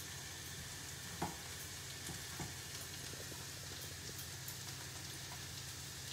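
Ginger and garlic fry in a pan with a soft, steady sizzle and faint crackle, plus an occasional light tap or stir, all fairly quiet with no voices.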